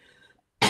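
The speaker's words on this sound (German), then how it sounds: "ich muss jetzt einfach mal husten" A single short, sharp cough comes close to the microphone after some faint murmuring and a brief pause.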